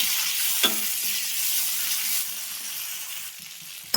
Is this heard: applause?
no